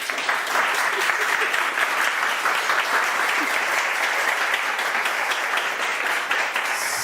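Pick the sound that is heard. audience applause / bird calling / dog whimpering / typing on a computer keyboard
audience applause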